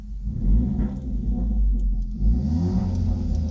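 The 1.6-litre turbocharged T-GDi engine of a used Hyundai Veloster JS revs up as the accelerator is pressed, a deep throaty rumble rising and falling in a couple of surges, close by.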